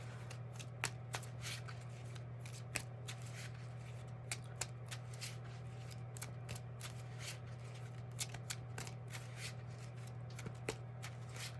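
Yu-Gi-Oh cards are shuffled by hand in a quiet room, a string of soft, crisp riffling flicks repeating at an uneven pace over a steady low hum, with no talking.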